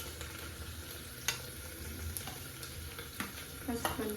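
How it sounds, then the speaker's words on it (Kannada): Chopped vegetables, including beans added to golden-browned onion for a beetroot pulao, fry in a pan. The soft continuous sizzle is broken by a few sharp clicks from stirring. "ಮತ್ತು ಅದನ್ನು ಫ್ರೈ ಮಾಡ್ಕೊಳ್ಳೋಣ."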